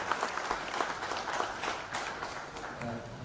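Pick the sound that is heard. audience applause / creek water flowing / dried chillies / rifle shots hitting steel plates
audience applause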